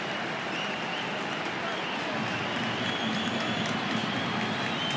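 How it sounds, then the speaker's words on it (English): Distant stadium crowd applauding at the Australia vs UAE World Cup qualifier, a steady broad wash of clapping and crowd noise that holds evenly throughout the whole stretch, with commentary voices faintly in the background. "The applause you can hear in the background is that Tim Cahill has been summoned"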